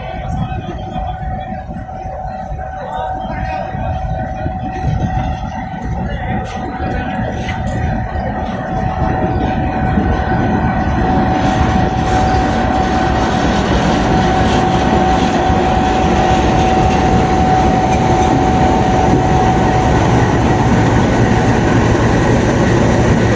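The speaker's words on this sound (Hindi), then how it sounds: "फरीद एक्सप्रेस प्लेटफॉर्म नंबर 1 पर आ चुकी है" Farid Express of Pakistan Railways pulling into platform 1 at a station: a steady, loud rolling rumble of railcars that builds and holds, with a faint tonal whine, as someone talks over it.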